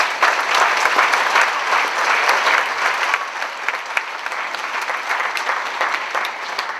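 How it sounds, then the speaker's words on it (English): An auditorium audience at a high school jazz band concert applauds the band directors, dense steady clapping filling the hall for the whole stretch with no one speaking over it. "Give them a huge round of applause."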